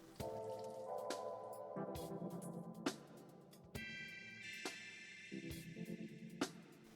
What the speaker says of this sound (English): twist and squiggle all of the dal around